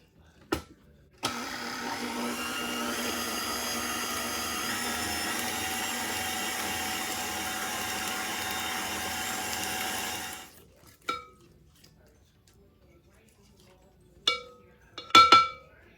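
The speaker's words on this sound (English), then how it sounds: "we're going to mix all these ingredients together until they're well blended" Pumpkin cookie batter of pumpkin puree and other wet ingredients whirred together by an electric mixer, a steady loud hum for about nine seconds that then stops, followed by a few scattered clinks of utensils.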